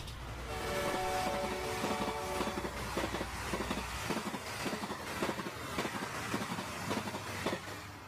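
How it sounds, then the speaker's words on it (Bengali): A cartoon train rolls along at a moderate distance, a low rumble with a rhythmic clickety-clack of wheels on the rails and a brief whistle-like tone early on, steady and without voices. "কথা বলতে বলতে একসময় ট্রেন পলাশতলী স্টেশনে পৌঁছলো"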